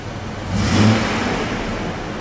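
The engine of a 1999 GMC Jimmy with a cold start problem rises briefly as the throttle is blipped, a short swell in pitch and loudness over a steady idle that then settles back.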